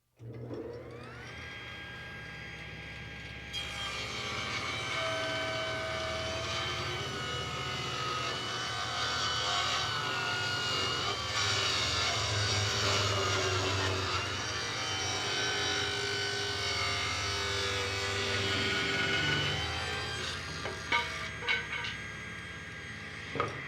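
A restored Delta Unisaw table saw starts up and runs steadily with a loud motor whine, its pitch and load shifting as it cuts through wood, then spins down near the end.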